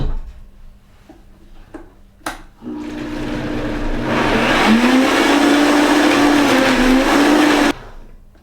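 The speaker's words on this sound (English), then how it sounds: "We'll put the lid on our blender. And we're going to go ahead and blend it up" A blender blending coconut yogurt starts up and runs for several seconds, a loud steady motor whir that rises slightly in pitch before cutting off abruptly.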